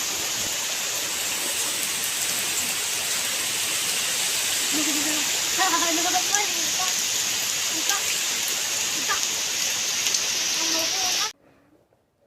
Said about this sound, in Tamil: இப்போ வந்து நம்ம தேங்காய் சட்னி அரைச்சிக்கலாம்